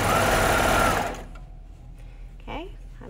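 A sewing machine stitches the shoulder seam of a Blissey shirt, running loud and steady for about a second before stopping, followed by quiet handling noises and a brief soft voice.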